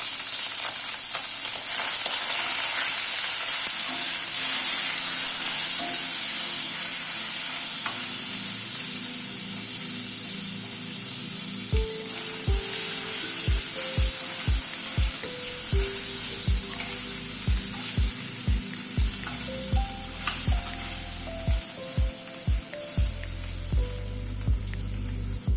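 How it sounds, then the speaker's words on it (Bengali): Paneer cubes sizzle loudly in hot oil in a pan, a bright continuous frying hiss that later eases slightly as sharp spatula clicks and taps against the pan punctuate the sizzle; no talking. "তেলটা গরম হয়ে এসছে, পনিরগুলোকে আগে একটু ভেজে নিচ্ছি"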